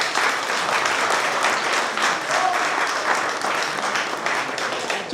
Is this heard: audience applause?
yes